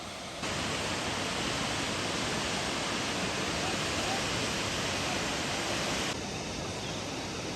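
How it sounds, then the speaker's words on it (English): Steady, roaring rush of Fall Creek Falls running heavy after three days of rain, broadband and constant, fading in at the start and dipping slightly near the end. "Very good water flow today, but of course it's been raining for the past 3 days"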